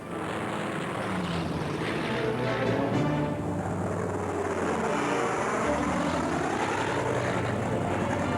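Republic P-47 Thunderbolt propeller fighter engines drone steadily and loudly throughout, a broad continuous roar from aircraft on a bombing attack against a bridge, with no pauses.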